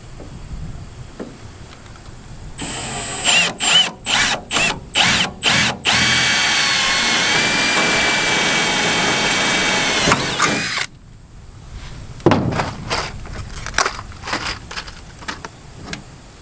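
Aluminum rivets, 1/4 inch by 3/8, set into jon boat ribs with a power tool: a run of about six sharp bursts, then a long steady whine of several seconds, followed by lighter clicks and clatter, close and loud.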